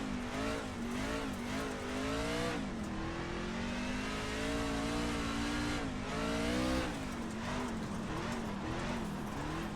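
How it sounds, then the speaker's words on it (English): A truck in the iRacing video game circles the Oswego dirt track at sunset, its engine droning loud and steady, with pitch rising and falling through the corners and occasional tire scrabble. "let's see what happens when we try and drive a truck around here"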